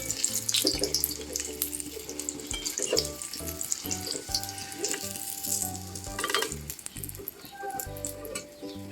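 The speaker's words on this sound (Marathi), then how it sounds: "आता तो तळून घेते मी मस्तपैकी" Crushed garlic cloves, still in their skins, frying in hot oil for vada pav, a steady close sizzle with bubbling and occasional stirring throughout, no talking.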